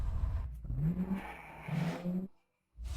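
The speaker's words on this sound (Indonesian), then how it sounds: "Nona, sepertinya ada sebuah mobil yang mengikuti kita." A car engine hums and revs nearby as the vehicle drives along, rising and falling twice before a brief drop to silence and then resuming.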